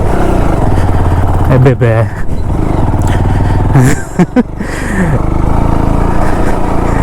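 A motorcycle engine labours steadily up a steep road in low gear during a solo road trip from Beluru to Madikeri in Coorg, a loud, continuous close drone with brief dips, while people talk over it.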